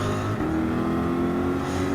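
Group 4 race cars in Gran Turismo 7 rev together at the start of a Manufacturers Cup race, including a Mazda Atenza, Subaru WRX and Mitsubishi Lancer Evolution Final Edition. The engines make a loud, continuous, layered roar that rises in pitch partway through.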